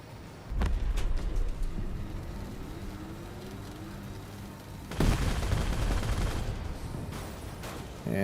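A melee weapon in the vehicle combat game Crossout charges and then fires. A low engine rumble runs underneath, with a heavy blast near 0.6 seconds and another sharp, loud discharge around 5 seconds, followed by rattling shots.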